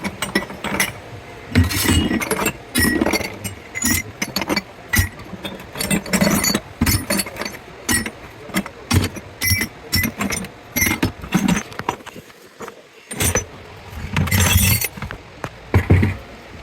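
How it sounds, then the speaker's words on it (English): Brass strips are tossed into a metal container at a scrap weigh-in, producing a run of bright clanking and clinking bursts in irregular clusters, loud and close. "All right, throw them brass strips in there."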